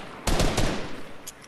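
Hand cannon fired in a first-person shooter video game, a close, loud burst of three rapid booming shots that fades quickly, followed by two faint distant cracks.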